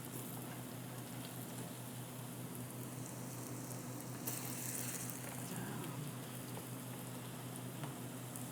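Korean savory pancakes (jeon) frying in oil in a pan, made as holiday assorted jeon: a steady, soft, continuous sizzle and crackle with no speech, even in level throughout.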